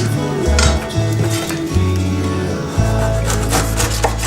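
A knife slices through pineapple on a wooden cutting board, giving repeated low thudding and scraping strokes at an uneven rhythm with occasional light clinks, close and moderately loud, no talking.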